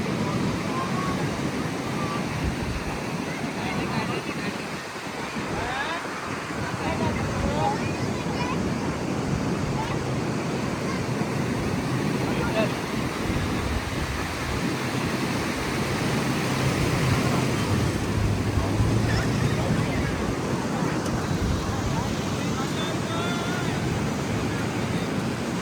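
Sea surf rolls in steadily at Ganpatipule beach in Ratnagiri, a continuous broad wash of breaking waves with wind noise on the microphone, while a crowd on the shore murmurs faintly behind it.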